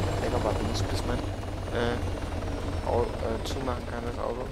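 Steady low rotor drone of a helicopter in Altis Life runs continuously beneath people talking, holding at an even level throughout.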